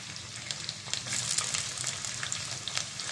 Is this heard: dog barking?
no